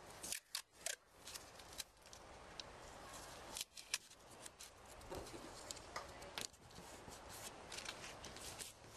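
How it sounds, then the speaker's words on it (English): Adhesive tape pulled and pressed onto an RV graphic decal, giving a steady rasping crackle with sharp tearing and snapping bursts throughout, close and fairly loud with no talk. "So by using our tape, we're going to tape each end."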